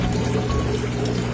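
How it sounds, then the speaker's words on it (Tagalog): Water pours steadily into plastic storage boxes, a continuous, fairly loud splashing rush that stays even throughout with no voices. "Nilagyan ko na ng tubig yung 2 layers ko."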